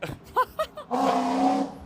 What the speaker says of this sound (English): there's a gentleman making a lot of compensation with his exhaust noise